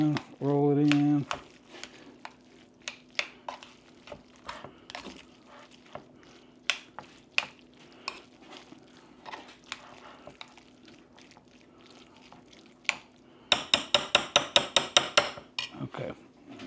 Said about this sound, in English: I'm gonna give it a quick little stir